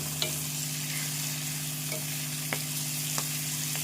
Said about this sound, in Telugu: ఉల్లిపాయ, ఈ కొత్తిమీర, మెంతి కూర, కరివేపాకు ఇవన్నీ కూడా కొద్దిసేపు వేగదాకా వేసుకుందాము.